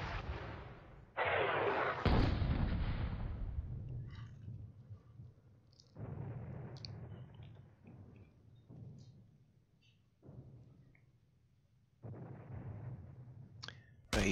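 Artillery barrages from a World War II Ardennes wargame sound as several heavy rumbling blasts, each followed by a long fading roll, separated by near-silent pauses, the first burst loudest.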